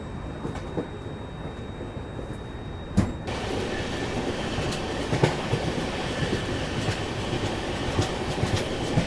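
A moving passenger train heard from its open door, with a steady rolling rumble and rhythmic clickety-clack of wheels over rail joints. A sharp knock sounds near the start, and the noise grows louder and fuller soon after.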